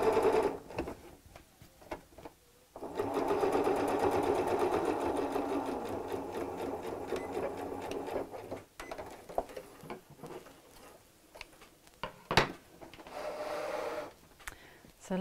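A sewing machine runs a steady, whirring stitch along the final seam of a fabric storage cube for several seconds, then stops among soft handling clicks and brief pauses. There is no talk.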